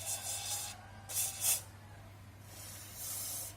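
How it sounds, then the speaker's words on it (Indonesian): Rust penetrant is sprayed onto a stuck pulley boss collar in three close hissing bursts, two short and one longer, separated by brief pauses over a low steady hum. "Kita semprot dulu aja"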